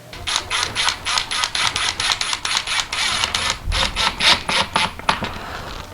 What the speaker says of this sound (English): So just go ahead and load that lath up with staples or nails.